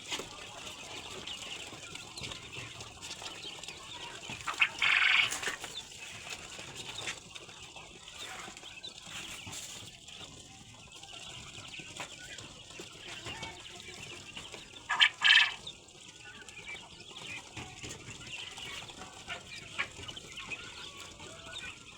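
Quail give two short, bright calls several seconds apart against a quiet, rustling background, with no talking.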